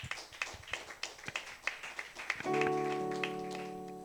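Congregation clapping in a church service, a scattered run of sharp claps that gives way midway to sustained organ or keyboard chords that carry on to the end.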